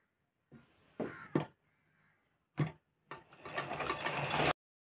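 A sewing machine stitches a blouse in short separate bursts, then runs in a longer steady whirring spell before stopping. It is quiet and close, with near-silent gaps between the runs.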